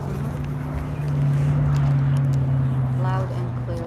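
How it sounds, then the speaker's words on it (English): Big airplanes coming in overhead, a steady loud engine drone that swells after the first second and holds, with a voice talking faintly underneath near the end. "Man, those are big airplanes coming in right now"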